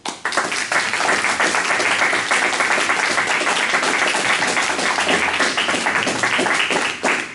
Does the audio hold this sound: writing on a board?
no